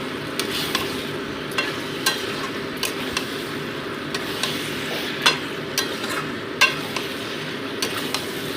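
Chicken pieces fry with spices in a pan and are stirred, giving a steady soft sizzle under regular sharp clinks and scrapes of the spoon against the pot, close and moderately quiet.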